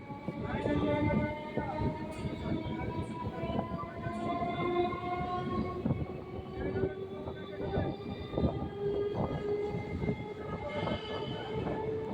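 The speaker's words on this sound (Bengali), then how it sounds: "ট্রেন এখন ধীরে ধীরে কাকিনাড়া স্টেশন ছেড়ে বেরিয়ে যাচ্ছে" A train rumbles and clatters as it pulls out of Kankinara station toward Jagaddal, steady wheel noise and squeaky metallic tones, with a distant horn-like tone at times.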